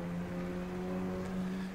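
The Puma P052 race car's engine in the racing game rFactor 2 at the Ibarra track, a steady droning hum with strong tonal harmonics, held at a constant pitch and fairly quiet, with no talk over it.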